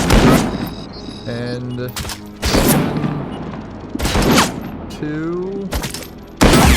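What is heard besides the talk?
enemy snipers shooting in video game Robocop Rogue City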